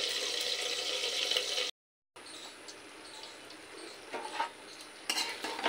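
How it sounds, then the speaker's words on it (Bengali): Eggplant pieces, coated with salt and turmeric, fry in oil in a pan, giving a steady broadband sizzle with a short silent gap, a few utensil scrapes and stirring clatters near the end. "বেগুনগুলো একটু হালকা লাল করে ভেজে নেব।"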